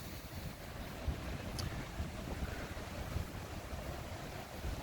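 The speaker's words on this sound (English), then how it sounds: "this creek or this river is really flowing" A fast-flowing creek in the Smokies, swollen by recent rains and running over its banks, gives a steady, low, broadband rush of water that stays even throughout.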